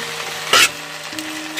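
Green onion sabzi cooks in a pan with a soft, steady sizzle, broken by one brief louder scrape or clatter, and no voices.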